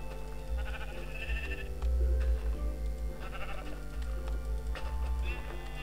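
Sheep in the Minecraft video game give several short, wavering bleats over a steady low hum and background noise, at moderate level.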